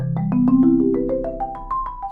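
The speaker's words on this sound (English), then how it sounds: "So all put together, that chord progression would sound like this" Keyboard notes climb quickly one after another in a rising arpeggiated pattern over a held low tone, smooth and moderately loud.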